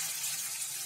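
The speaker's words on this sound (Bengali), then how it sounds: "গরম জল দিলাম" Hot water pours steadily into a cooking pot of vegetarian ool and lentil bori curry, a brief close hissing splash with no pauses.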